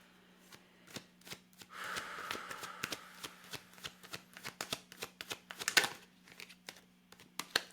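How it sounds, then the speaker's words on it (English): Tarot cards shuffled by hand in a steady run of quick, crisp riffling slaps and flutters, close and fairly quiet, with a soft steady hum underneath and no talking. "let's pull some cards"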